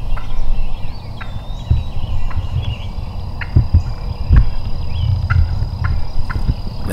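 A wild turkey hen clucking nearby in the woods, sharp single clucks spaced every second or so over a steady outdoor hum with faint insects, fairly loud and close, with no talking.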